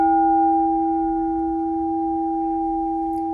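A 9-inch rose quartz crystal singing bowl rings with a steady, pure sustained tone and clear overtones, loud and close, slowly decaying with no talking.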